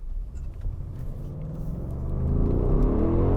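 A 2020 Audi SQ7, a 500 hp V8 SUV, accelerates hard in a straight line, its deep engine rumble building steadily in pitch and loudness, heard close from inside the cabin with no talking.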